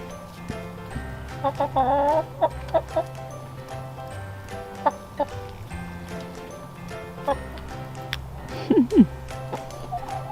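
Chickens cluck and chirp in scattered bursts while pecking at worms given as a treat outdoors, with soft background noise and occasional faint sounds throughout.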